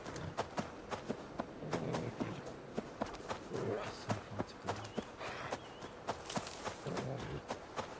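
A small, stubby-legged mount in the game Dawn of Ragnarok runs along, its quick, evenly spaced footfalls clicking faintly over a low game background.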